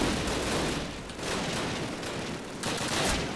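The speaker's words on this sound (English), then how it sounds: "This is a crazy gun just because of how many bullets it carries in a single clip." Rapid automatic gunfire from a high-capacity weapon in the video game Call of Duty, a dense fusillade of bursts broken by short pauses, harsh and fairly close.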